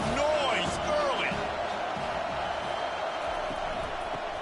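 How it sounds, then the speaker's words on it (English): Steady stadium crowd roar from a college football video game, North Carolina at USC, a loud continuous wash of noise throughout with a commentator's voice over it early on. "This crowd bringing the energy and noise early."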